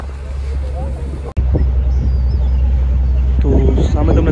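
A boat engine drones loud and steady aboard a crowded passenger boat crossing from Okha to Bet Dwarka, a heavy low rumble with wind and voices talking over it.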